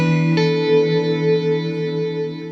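An electric guitar note runs through a reverb pedal, then a strummed chord swells into a sustained, wavering wash of reverb that gently rises and falls in loudness with no voices.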